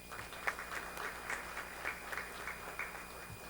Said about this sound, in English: I request everybody to give her the louder applause